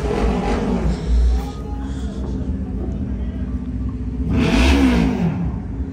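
A motorcycle engine revving at an indoor mall car meet, a loud sustained roar that swells twice against a constant crowded hall background.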